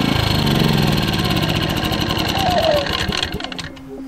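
A small portable backup generator for power outages runs close by with a steady, rattling mechanical drone that holds loud and even before easing slightly at the end.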